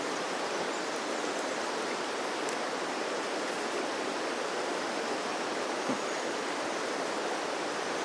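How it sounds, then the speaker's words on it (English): Loud rushing water of a river fills the air, a steady broadband roar with no breaks and nobody talking. "like something up the river was making a lot of noise"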